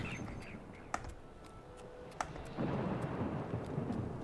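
Thunder rumbles in a video game, a low rolling swell that grows louder and holds steady near the end, with sharp clicks and taps scattered over it.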